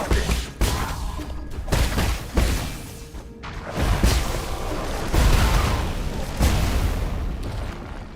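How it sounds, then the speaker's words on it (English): Video game explosions in Nine Sols, a dense run of repeated booms and thuds, one after another over several seconds, loud and layered with game combat noise and no pauses of quiet. "that explosion doesn't hurt me"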